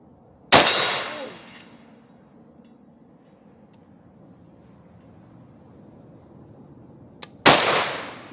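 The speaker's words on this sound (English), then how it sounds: "I pulled the trigger, nothing happened, and the gun went off." A Bear Creek Arsenal .458 SOCOM rifle fired outdoors, two loud sharp shots about seven seconds apart, each with a ringing decay, with a few faint clicks between them.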